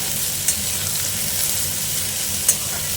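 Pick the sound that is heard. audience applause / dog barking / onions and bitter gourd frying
onions and bitter gourd frying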